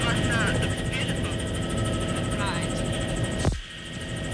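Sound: helicopter flying

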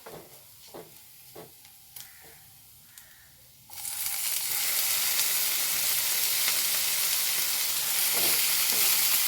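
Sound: tomatoes frying and being stirred in a pan

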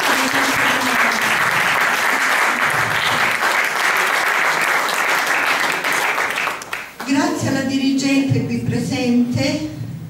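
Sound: audience applause

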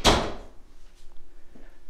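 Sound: garage door being closed

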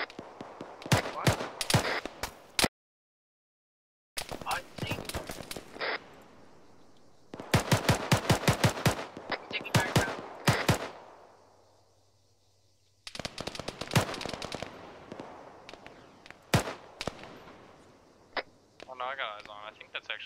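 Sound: small arms gunfire in video game Arma 3

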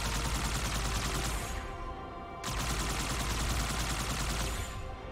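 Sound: machine gun firing in the video game Halo 2

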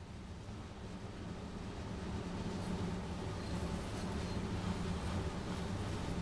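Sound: train passing through without stopping, video game Train Sim World 2

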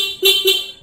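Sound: car horn honking

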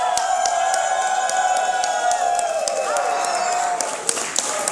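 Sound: wrestling crowd chanting thank you to Kris Wolf

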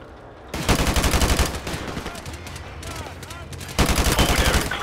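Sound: gunshots in the video game Call of Duty Modern Warfare

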